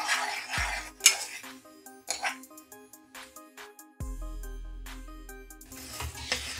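Melting jaggery is stirred in a pan for masala laddu, with intermittent scraping and metallic clinks of a spoon against the pan, and a person talks between the strokes.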